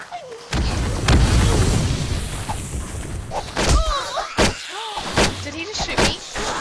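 Sharp, booming gunshots from a sniper rifle in the 7 Days to Die video game, with several loud impulsive cracks spread through the clip and game sounds between them.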